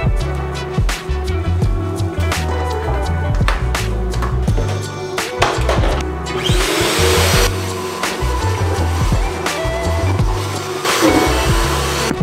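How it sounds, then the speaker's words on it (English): A vacuum cleaner runs steadily and loudly while vacuuming an apartment rug, its motor whine continuous with bumps and clatter as the nozzle moves, and the pitch shifts partway through. "we're vacuuming and dusting right now"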